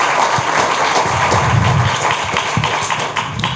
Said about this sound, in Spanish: Démosle un aplauso entonces a Bart Kamertz.